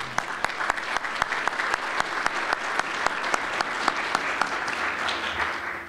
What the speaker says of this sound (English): let's give Ozzy and Westmont a round of applause